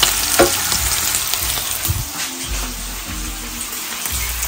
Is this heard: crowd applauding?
no